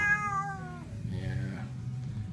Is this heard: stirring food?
no